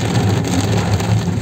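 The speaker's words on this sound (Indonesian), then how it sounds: "Hujan pak?" Steady, heavy rain pouring down, a loud continuous hiss of drops with no breaks and no voices over it.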